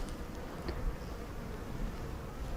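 Honey bees buzz steadily during a beginner's brood hive inspection, a dense, continuous drone close by with no talking.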